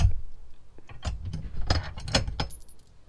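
Bolts, washers and nuts being handled while fitting a bump seat bracket on a Polaris RZR Pro 4: a few sharp metallic clicks and clinks in a close, quiet setting, with no talking.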